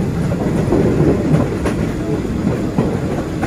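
Thai rapid train 168 on the Thung Song to Kantang line runs along the rails with a loud, close, continuous rumble and faint rhythmic wheel clicks heard from on board.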